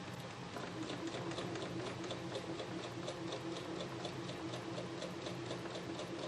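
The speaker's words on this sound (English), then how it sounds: "And we're going to start stitching" A sewing machine stitches a quilt from the Kimberbell Pumpkins & Potions pattern, starting with a back tack, in a steady, even run of rapid needle clicks with a motor hum underneath, close and continuous throughout.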